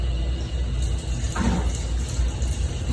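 Water pours steadily, rinsing out a grab sample taken from a probe. The rush of water is continuous, loud and close throughout, with no voice over it.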